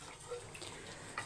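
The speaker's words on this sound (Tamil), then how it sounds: "இதில் தண்ணி ஊற்றணும்." Water pours steadily into a pot of mixed fish curry, a soft continuous splashing and trickling close by, with no talk over it.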